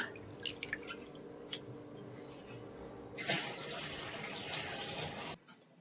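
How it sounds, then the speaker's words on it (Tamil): Water runs and splashes steadily for a couple of seconds while lentils are washed, after a few soft drips and clinks, close by, with no talking. "தண்ணியில் நல்லா கழுவிக்கலாம் பருப்பை"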